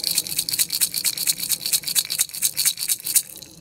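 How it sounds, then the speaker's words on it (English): A calabash gourd rattle filled with shells or stones, shaken steadily in a quick repeated rhythm of bright, close, loud rattling bursts, heard alone. "rattle from a calabash"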